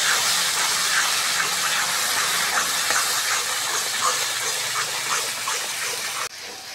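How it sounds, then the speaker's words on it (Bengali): A turmeric, red chili powder and mustard paste masala is sautéed for a lote fish malaikari, giving a loud continuous sizzle and hiss with faint stirring. The sound cuts off abruptly near the end. "হলুদ গুঁড়ো, রেড চিলি পাউডার, সর্ষে বাটা, ভালো করে মশলাগুলো কষে নেব।"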